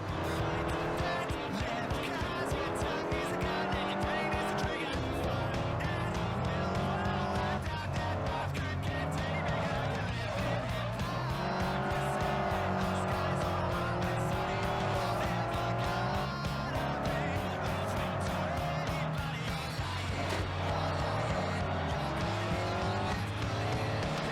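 Quad bike racing in the video game Pure: a continuous engine drone with occasional tire squeals, mixed under loud, steady game music for the whole stretch.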